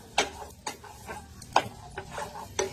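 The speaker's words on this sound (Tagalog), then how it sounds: "Nilagay natin ang sibuyas sa olive oil." Chopped onion going into hot olive oil in a pan, a gentle sizzle punctuated by a rhythmic series of sharp utensil taps and scrapes against the pan, close and moderately quiet.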